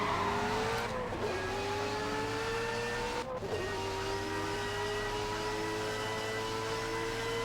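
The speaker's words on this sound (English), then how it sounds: "Everybody loves the engine sound of the M3 GTR in the original game." A BMW M3 GTR in Need for Speed Most Wanted winds up steadily through the gears with two quick shift breaks, its engine tone climbing each time, a continuous moderately quiet game engine drone with no talking.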